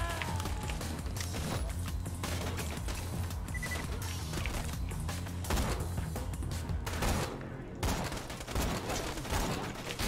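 Rapid, repeated gunfire from a gun in the video game Borderlands 2, bursts of shots crackling nearly continuously over busy game noise, with only a brief pause near the end.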